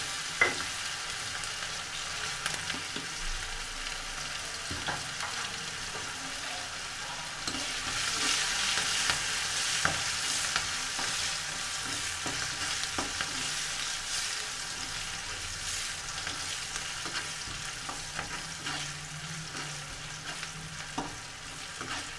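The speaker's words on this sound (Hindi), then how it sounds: "अब हमने इसमें डाल दिया प्याज लहसुन," Onion and garlic frying in a pan with turmeric and spices, a steady close sizzle and crackle that swells partway through, with occasional scrapes of stirring.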